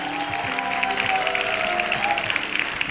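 Studio audience applause on an Indonesian TV talk show, a continuous crowd of clapping hands with a sustained tonal voice or cheer riding over it.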